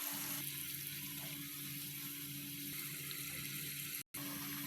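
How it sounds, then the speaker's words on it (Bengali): Sugar syrup with bay leaves boils at a steady simmer in a pot as mango pieces go in for mango morobba, a continuous close bubbling hiss and sizzle with one brief dropout near the end. "এরকম বলক চলে আসলে এই পর্যায়ে আমরা আমগুলো দিয়ে দিচ্ছি।"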